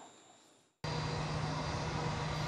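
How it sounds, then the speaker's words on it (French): Presidential airplane at Félix Houphouët-Boigny international airport in Abidjan, a loud steady aircraft engine roar that cuts in abruptly after a quiet start and holds evenly to the end. "L'avion présidentiel s'est posé à 17h GMT à l'aéroport international Félix Houphouët-Boigny d'Abidjan."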